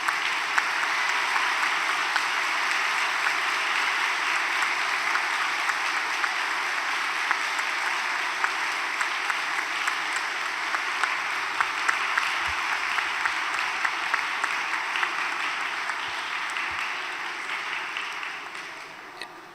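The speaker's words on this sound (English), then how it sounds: "I want to give a round of applause to the students taking advantage of this opportunity." Audience applause for students at a global summit session on policy and international affairs, a long, even wash of clapping that holds steady for nearly twenty seconds, moderately distant, then eases slightly at the end.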